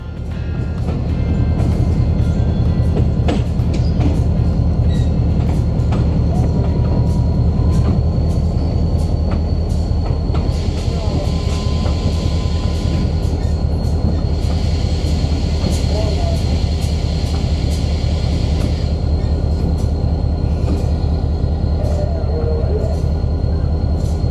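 A freight train rolls past close by on a CSX line in eastern Kentucky, its heavy, rhythmic clatter of wheels on rail joints continuing loudly throughout, with brief higher squeals.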